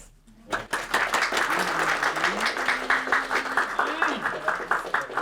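Family gathered for a Passover seder clapping together, a steady patter of many hands with cheering voices and talk mixed in throughout.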